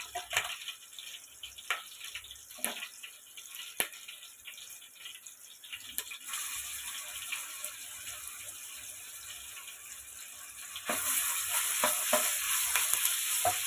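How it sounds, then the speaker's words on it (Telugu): Ginger paste fries in hot oil in a pan for a paneer curry, giving a steady close sizzle that grows louder and brighter partway through, with faint stirring scrapes and no talking. "ఆయిల్లో అల్లం పేస్ట్ మగ్గిన తర్వాత ఇది"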